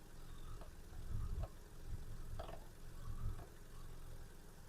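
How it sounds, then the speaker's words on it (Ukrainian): A 2006 Volkswagen Golf Plus with a 1.6 MPI petrol engine idles quietly and evenly in the open engine bay, a faint low hum with a few soft rhythmic pulses and no voices. "Мотор працює тихо рівно."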